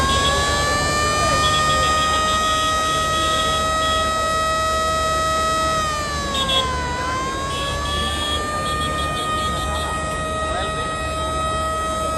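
A passenger river launch at Barisal sounds a long, loud sustained horn before departure, one continuous rich tone that dips briefly in pitch midway and then holds steady to the end.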